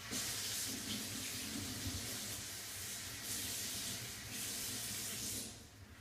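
Steady running warm tap water splashes onto a paper towel, a continuous close hiss with slight swells.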